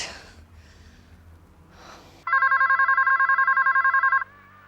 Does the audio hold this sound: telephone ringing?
yes